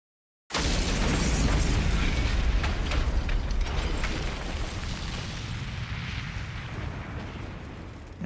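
A grenade blast in The Hundred Line Last Defense Academy video game erupts abruptly into a loud, broadband roar, then rumbles on with a long, slowly fading tail of debris and low-end boom.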